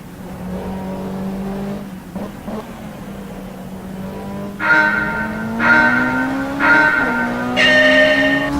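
A race car engine in the rFactor 2 racing game setting off on a lap of Le Mans, a loud steady drone that climbs in pitch through repeated gear shifts, each upshift dropping the revs briefly.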